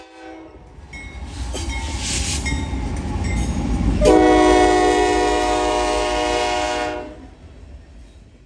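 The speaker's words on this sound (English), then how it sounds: "Today's 170 is led by an NS AC44C6M toaster and a UP SD70AH." Freight train led by an NS AC44C6M and a UP SD70AH locomotive rumbles past close by, its horn blaring loudly from about four to seven seconds over the steady roll of the cars.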